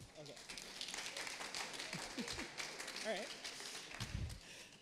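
A conference audience applauds during the Scratch 3.0 keynote, a dense wash of clapping at moderate volume with voices mixed in throughout.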